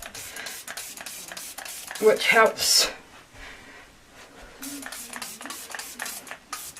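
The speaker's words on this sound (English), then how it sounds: "Give it a spray with the old alcohol spray" An alcohol spray bottle gives a couple of quick hissing spritzes over freshly poured lavender and lemongrass soap, close by, with talking before and after.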